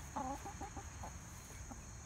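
Chickens and roosters cluck in a quick series of short, soft calls near the start, then fall quieter against a constant low hum, with no speech.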